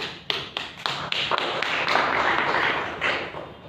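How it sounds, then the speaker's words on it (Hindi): One person claps, starting with sharp separate claps at a steady beat, then blurring into a faster, denser run of clapping that seems to include others joining, close and moderately loud. "मैं प्रभु के लिए ताली बजाता हूं"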